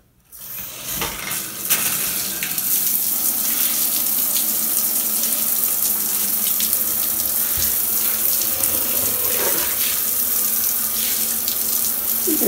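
Running water splashes steadily into a shower drain during cleaning of a hair-clogged drain, a close, continuous gushing spray that starts abruptly and carries on alone.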